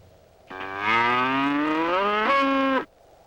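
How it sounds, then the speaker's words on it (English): A single drawn-out cow moo, loud and close, rising slightly in pitch midway and lasting a little over two seconds, heard alone against a quiet background. "This is a moo cow."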